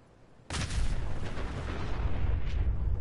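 A nuclear explosion in a video game bursts in abruptly after a brief quiet lead-in, then holds as a loud, sustained, broadband roar and rumble to the end.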